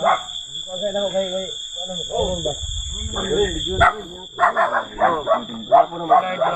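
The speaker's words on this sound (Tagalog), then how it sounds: "Dami palang aso nila nandito." Several dogs bark and yip in quick, irregular bursts close by, mixed with people talking and a steady high electronic whine.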